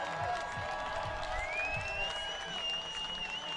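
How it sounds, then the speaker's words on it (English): A Raimondi Park baseball crowd at an Oakland Ballers game applauds and cheers steadily, with a dense, continuous roar and whistles or sustained tones ringing through, heard from within the stands. "They are being cheered on by this Raimondi Park crowd"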